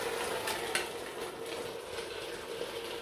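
Veal meat frying in a pot for a taro and veal broth: a steady, close crackling sizzle runs throughout, with faint clicks of a utensil against the pot.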